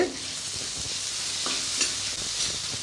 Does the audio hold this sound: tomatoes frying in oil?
yes